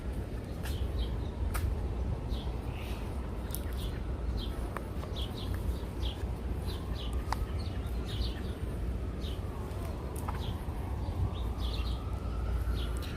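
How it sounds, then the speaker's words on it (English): Small birds chirp and twitter in short scattered calls across Central Park on a hot day, faint and mid-distance over a steady roar of city traffic and park ambience. "We hear the birds."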